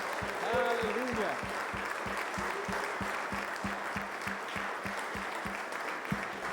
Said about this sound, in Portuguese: Dê um aplauso ao Senhor, um aplauso cheio de gratidão.